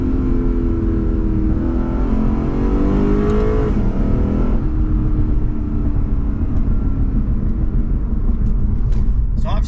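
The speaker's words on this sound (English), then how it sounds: "Let's listen to downshift." A Nissan GTR or Lexus RCF Track Edition downshifts during a drive, the engine note rising then dropping in a steady mechanical drone heard from inside the car, with tyre and road rumble underneath throughout.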